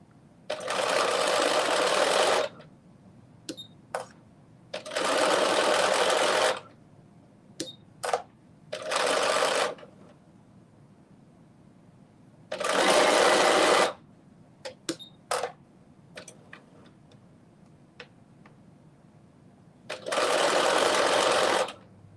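A sewing machine runs in several loud bursts of rapid stitching, each lasting a couple of seconds, with short clicks and pauses between them.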